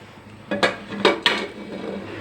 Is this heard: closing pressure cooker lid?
yes